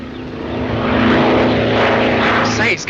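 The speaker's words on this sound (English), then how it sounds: "That must be Mr. Griffith's plane." A propeller crop-dusting plane spraying chemicals for bugs approaches, its engine drone rising to a loud, steady roar overhead before easing slightly at the end.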